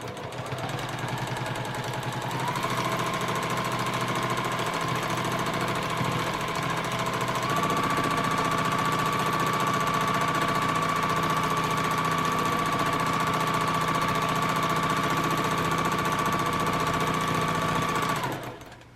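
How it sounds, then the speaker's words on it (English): Sewing machine running continuously during free motion quilting on a quilt sandwich, a steady close mechanical whir with rapid stitching pulses that changes pitch slightly as the speed shifts, and no talking. "I'll just continue free motion quilting"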